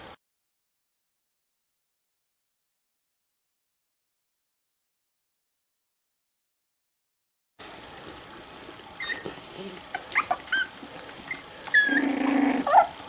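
After a long silence, 4-week-old Miniature Schnauzer puppies growl and whimper softly up close, with faint yips and scuffling toward the end.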